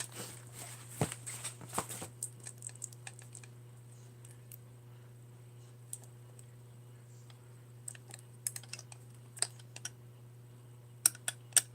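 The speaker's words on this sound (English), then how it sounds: "I love the sounds my rings make" Metal rings tap against a mirror in a short run of light, sharp clicks near the start and scattered faint clicks later, all over a steady low hum in an otherwise quiet room.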